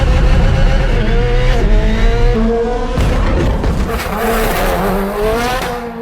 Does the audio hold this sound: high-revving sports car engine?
yes